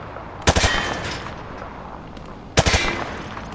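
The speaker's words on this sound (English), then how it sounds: "He sprayed bullets all over the damn place." Two separate bursts of rapid hip-fire gunfire in Call of Duty Modern Warfare 2 Remastered, each a quick rattling volley with a short echoing tail and a quiet pause between them.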